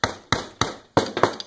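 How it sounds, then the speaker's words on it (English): Hammer striking a screwdriver to break the bead of a riding mower tire from its rim, sharp metallic blows ringing out in a steady series of about six close, loud hits. "in order to break that loose, you're going to need your screwdriver, and you're going to need a hammer"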